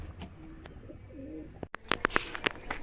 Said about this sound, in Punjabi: ਇੱਥੇ ਬੈਠੀਆਂ ਕਬੂਤਰੀਆਂ ਤੇ ਉਹ ਚ ਬੈਠੇ ਕਬੂਤਰ